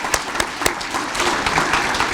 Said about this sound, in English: let's give Henry a really big round of applause for selling the 50/50